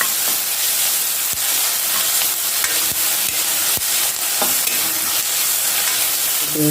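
Onions sizzling with salt in a hot pan, a loud, dense, continuous frying hiss with scattered sharp scrapes and taps as a spoon stirs them close up.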